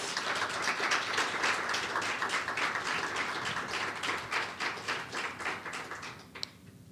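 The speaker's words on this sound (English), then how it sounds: "So please give them a round of applause." Applause for honorees at a seminary ordination and graduation ceremony, a steady run of many hands clapping with a slightly rhythmic, pulsing feel that eases off near the end.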